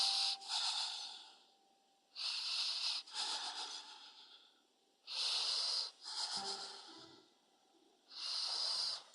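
Slow, deep breaths during a held isometric yoga pose come in four long, hissing, slightly wheezy exhalations spaced evenly, close and clear with quiet gaps between.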